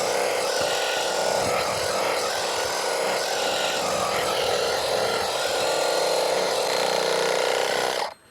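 A LEADER reciprocating saw cuts through alder wood with a loud, steady, buzzing rasp that holds for about eight seconds before stopping abruptly, close to the listener, with no talking.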